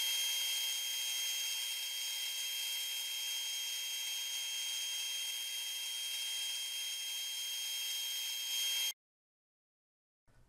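An Accu-Slice system cuts an ultra-thin wood veneer board with a steady, loud, high-pitched whine of a saw running alone for about nine seconds, then cutting off abruptly into silence.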